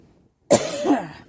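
A single sharp cough with a rough throaty tail, close and fairly loud, after a moment of near silence.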